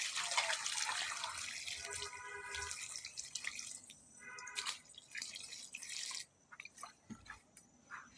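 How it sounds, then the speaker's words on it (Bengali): Water runs from a tap into a wok with a bright, hissing splash that wavers in pitch as the pan fills. The flow stops abruptly, leaving faint drips and small clatters. No one speaks. "কড়াই পানি দিয়ে ভরে দাও"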